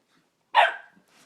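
A dog playing with a puppy gives one sharp, loud bark close by, then fades into quiet.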